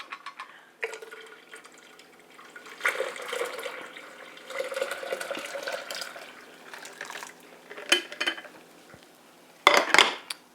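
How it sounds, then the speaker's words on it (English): Water pours and splashes into a gallon pitcher in uneven bursts, with brief clinks of dishware and louder splashes near the end, no talking. "I'm ready to take it out and pour it in my gallon pitcher."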